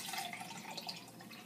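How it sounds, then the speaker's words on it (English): Water poured into a container for a clove oil plant spray, a steady trickling and splashing stream running throughout at moderate level, with no talk. "Now we got to pour this into 5 parts, 20 ounces of water."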